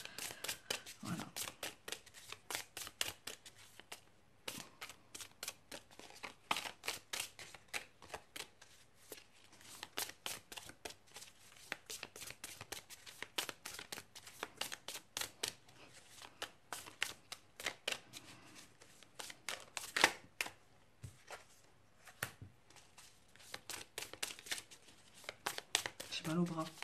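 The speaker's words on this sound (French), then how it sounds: "Ils sont pas gentils avec moi, ils me font beaucoup mélanger." Oracle and angel cards are shuffled over and over in long, steady bursts of rapid, crisp riffling and slapping, close and fairly quiet, with brief pauses between rounds while someone talks softly over the shuffling.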